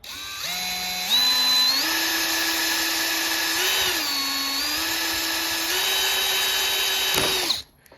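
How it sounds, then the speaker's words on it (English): A power drill whines steadily while boring into a shredded screw head, its pitch stepping up and down as the speed changes, close and loud, before it abruptly stops. "Now, I can't tell if that is drilling into it."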